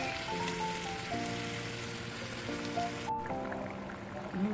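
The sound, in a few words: poppy-seed egg curry gravy boiling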